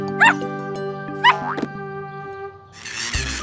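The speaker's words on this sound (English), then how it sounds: "The puppy is calling his friends over for a competition." A cartoon puppy gives two short, bright yips in a children's cartoon, set over a steady musical backing that ends in a burst of noisy sound.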